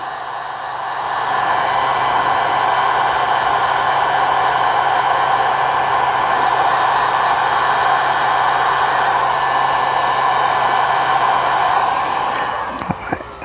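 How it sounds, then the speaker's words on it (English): A heat gun blows hot air in a loud, steady roaring hiss close by for about ten seconds, then cuts off near the end. "Guess that's why they call it a heat gun."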